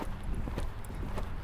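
A schooled horse working under a rider during a coaching session clip-clops at a steady walk, each hoof strike crisp and close against a quiet arena background.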